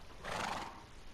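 A horse neighs in the Minecraft video game, a single loud whinny rising and falling over about a second, with no talk over it.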